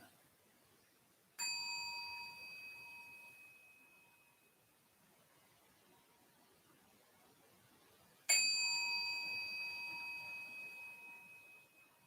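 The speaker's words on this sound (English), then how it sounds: "Listening to two sounds of the bell." A meditation bell struck twice, several seconds apart, each strike ringing bright and clear before slowly fading into near silence.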